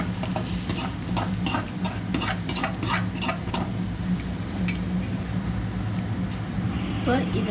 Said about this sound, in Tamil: இப்போ இதில் இப்படி கலக்கிக்கோங்க